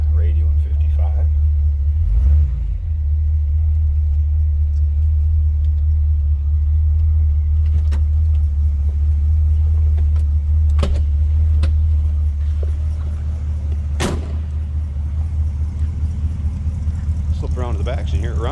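A 1955 Ford Fairlane Crown Victoria V8 with dual exhaust idles close by in a deep, steady, throaty rumble that holds for the whole stretch, with faint incidental knocks and handling noises over it.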